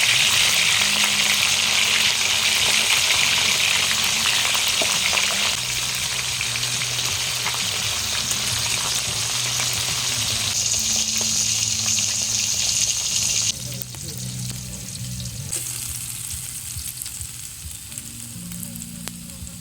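Wild-caught fish fries in hot oil with a loud, steady, crackling sizzle close by. The sizzle runs unbroken throughout and eases slightly near the end.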